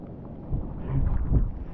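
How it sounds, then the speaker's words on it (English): Gusty wind in Iceland buffets the microphone with low rumbling surges that rise and fall, steady and close, with no voices. "Because as you can see, it's quite windy."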